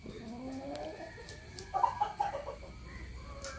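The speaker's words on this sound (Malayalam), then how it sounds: "ഇനി ഇവരെ ഞാൻ എൻ്റെ കോഴികൾക്ക് കൊടുക്കട്ടെ." Backyard chickens cluck in several short, close bursts while being fed bugs, over steady faint ambient hiss.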